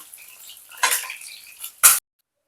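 Fried gurjali fish being lifted out of a pan with a metal utensil: a soft oily sizzle, then two sharp clinks of metal against the pan, the second loud and abrupt before silence.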